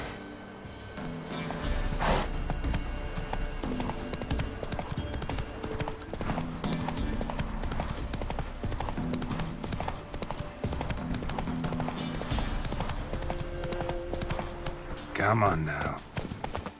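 Hooves of the horse Roach clop in a quick galloping rhythm through The Witcher 3: Wild Hunt, steady and prominent, with a voice speaking briefly over it and a whinny near the end.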